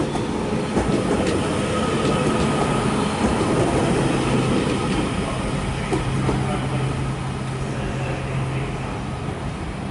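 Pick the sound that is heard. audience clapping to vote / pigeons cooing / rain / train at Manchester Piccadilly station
train at Manchester Piccadilly station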